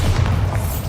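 Bombarda, the explosion spell in the game Hogwarts Legacy, goes off as a short, heavy low boom with a thudding rumble that fills the whole brief moment.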